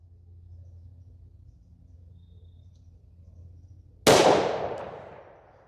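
A single sharp, loud gunshot from a Smith & Wesson M&P pistol with a red dot, firing DoubleTap 125gr .357 SIG ammo, rings out after a quiet, low outdoor rumble and decays over about a second.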